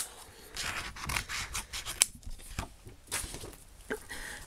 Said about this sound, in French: Et on va découper nos tongs.